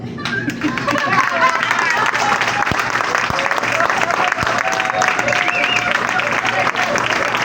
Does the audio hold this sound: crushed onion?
no